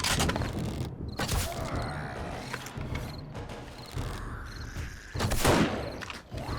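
Weapon handling in 7 Days to Die, a run of metallic clicks, creaks and clunks from a gun being reloaded, with a couple of louder bursts, close and fairly loud, with no one speaking.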